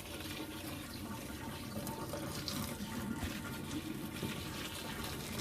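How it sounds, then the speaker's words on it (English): Boiling water poured over spinach in a kitchen strainer, making a steady, continuous splashing rush that lasts throughout at moderate volume. "So now I'm going to pour the boiling water on top of it to wilt it."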